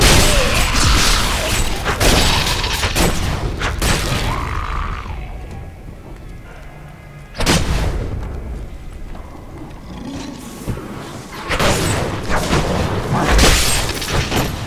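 Explosions and combat effects in the video game Diablo III, dense and loud booming blasts and crashes with a heavy impact midway, constant layered game noise throughout.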